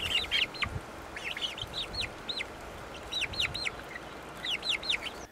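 Young chickens in a grassy outdoor area, a flock chirping and clucking in quick, repeated bursts, fairly faint over a soft steady background.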